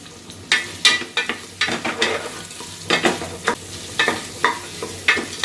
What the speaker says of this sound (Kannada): ಸ್ಟಾರ್ ಹೂವು, ಹೋಲ್ ಸ್ಪೈಸಸ್ ಹಾಕಿದ ನಂತರ ಆನಿಯನ್ ಆ್ಯಡ್ ಮಾಡ್ತಾಯಿದ್ದೀನಿ.